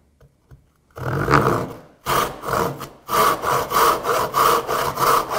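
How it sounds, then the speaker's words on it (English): A handsaw cuts through wood, starting with a couple of quiet strokes and then settling into a steady series of rasping push strokes, close and clear with no talking. "to start it, I actually like to do a couple of pull strokes to get my saw started in the"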